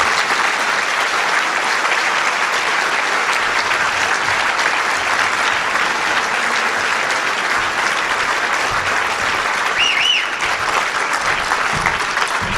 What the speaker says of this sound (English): I hope you will all give a warm round of applause to Jerry Remy